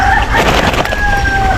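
A hen clucking by a tilapia fishpond beside rice fields, close and loud, with a couple of drawn-out calls over constant rough outdoor noise.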